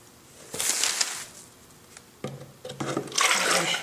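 Liquid glaze pours out of a ceramic cup during pottery glazing, a splashing, rushing stream in two bursts separated by a short lull, close and fairly loud with no voices.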